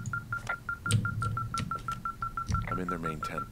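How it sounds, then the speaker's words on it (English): In the video game Firewatch, a tracking device beeps rapidly and steadily, each short electronic tone evenly spaced, while someone talks over it. "this thing is losing its mind, beeping like crazy"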